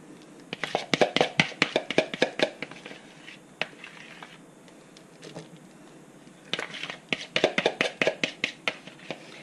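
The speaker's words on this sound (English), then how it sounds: "I'm just scraping my bowl really well" A rigid scraper working around a mixing bowl of deviled egg filling, with bursts of rapid scraping taps, a quieter gap, then another fast run of scrapes.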